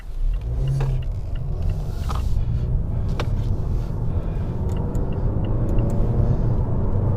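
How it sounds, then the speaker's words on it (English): Revised Mazda 6 accelerating up to speed on the road, a steady close engine rumble rising under constant road and tyre noise, with no talking. "So just getting the car up to speed."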